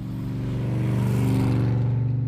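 A classic 1965–1968 Mercedes-Benz 230S W111 Fintail engine revving up nearby, a loud, steady low drone that swells slightly and holds, with no talk.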